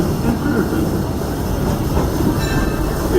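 Disneyland Railroad train rolling into New Orleans Square Station, a steady close rumble of wheels on rails with faint clickety-clack and occasional high squeal, continuous throughout.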